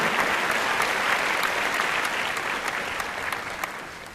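A live show audience keeps applauding a singer, a thick, continuous round of clapping with scattered sharper claps that tapers slightly toward the end.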